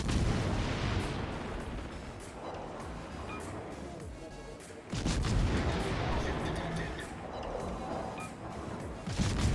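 Heavy naval guns fire in World of Warships, deep booming blasts and rumbling shell impacts, with a sharp salvo near the middle, dense and loud throughout with someone talking over it.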